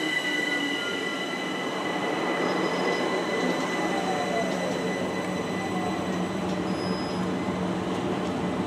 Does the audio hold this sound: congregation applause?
no